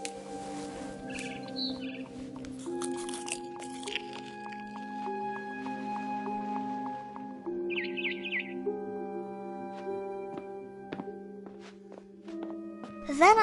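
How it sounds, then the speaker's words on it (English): A barn swallow chirps outside a window in the game What Remains of Edith Finch, short bright calls rising over a sustained musical drone, fairly close and moderately loud. "Then I heard chirping outside my window."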